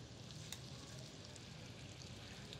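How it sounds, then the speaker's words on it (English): Pork tenderloin sears in butter in a hot pan, giving a steady, even sizzle that stays quiet and continuous with no talking. "Sizzle is always a good sign that you did your job right and got your pan at the correct heat"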